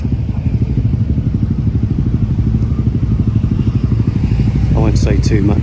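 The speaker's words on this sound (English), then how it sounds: "Just a quick look at the bikes here." Motorcycles at a busy summer bike meet in Japan rumble steadily and loudly throughout, with a dense low engine throb and some clatter, and a voice briefly speaks near the end.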